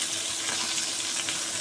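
Bata fish fry in mustard oil in a pan, a steady, close, crackling sizzle that runs throughout at moderate volume with no voices.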